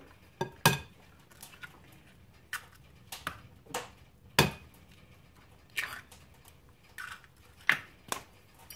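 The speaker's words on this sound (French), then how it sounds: "Et je casse 3 œufs au milieu." Three eggs are cracked into a bowl for crêpe batter, giving a few sharp, quiet taps and clicks of shell against the rim, spaced irregularly in a quiet kitchen.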